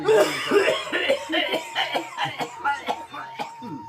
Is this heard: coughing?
yes